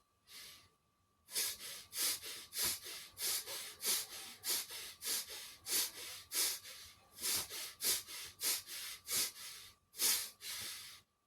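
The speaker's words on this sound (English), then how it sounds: "So we'll just basically start it now, breathing in." Pranayama breathing exercise: a long run of forceful rhythmic breaths through the nose, each sharp hissing puff closely following the last in a steady pulse, with one brief pause partway through, close and loud with no talking.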